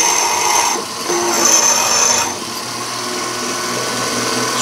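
A drill press spins a 1/16 inch bit into metal to drill a pilot hole for a lathe chuck backing plate, giving a close, steady motor whine with a brief rise in pitch partway through.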